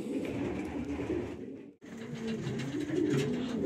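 Racing pigeons coo continuously in a loft, a dense low warbling chorus that drops out for a split second before resuming just as thick.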